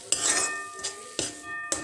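Brinjal and ghee stirred in a pan, a spoon scraping and clinking against the metal in four distinct strokes, close and fairly quiet with no talk.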